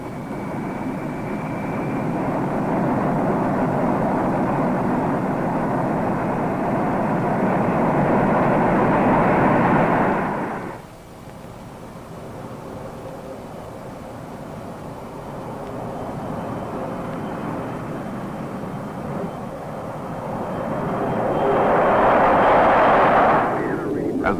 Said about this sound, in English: As the bomber climbs out